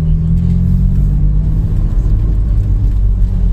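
A BMW M4 on the road, heard from behind as it drives along, gives off a steady, loud, low engine rumble with a smooth whir and no talking.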